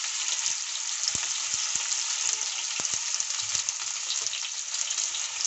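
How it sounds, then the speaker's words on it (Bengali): Cumin seeds and chopped onion sizzle in hot oil in a pan for a Bengali eggplant dish, a loud, steady, close frying hiss broken by occasional sharp crackles and pops. "এখন আমি দিয়ে দিচ্ছি জিরে ফোড়ন, দিয়ে দিচ্ছি কেটে রাখা পেঁয়াজ কুচি"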